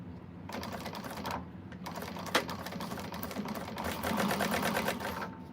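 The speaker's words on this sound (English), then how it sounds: "So I'm gonna go ahead and top stitch on the band." A sewing machine runs steadily while top stitching the band of a quilted bag, a fast rattling stitch that continues for several seconds with slight changes in pace.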